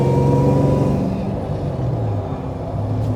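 A Land Rover Defender 110 with a custom supercharged 6.2 litre Chevy LSA V8 drives along, a loud steady engine drone with a deep rumble and a slight shift in pitch partway through, heard from inside the cabin.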